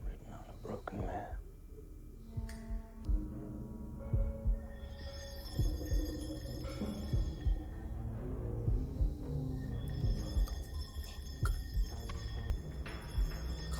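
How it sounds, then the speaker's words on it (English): Heartbeat sound effect in an episode of the Hannibal TV series, a steady low throbbing pulse under eerie tonal music and hushed whispering voices, continuing through the scene. "Heart beating."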